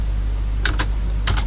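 Keystrokes on a computer keyboard while code is entered, two short bursts of a few crisp clicks each over a low steady hum, close and with no talk.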